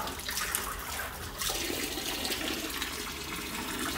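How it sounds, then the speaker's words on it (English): Water running into a fish tank for rudd: a continuous gushing, splashing pour from a hose or tap, fairly close, with a brief surge partway through. "Takes ages, one of these tanks, obviously, because it's a lot of water to go in."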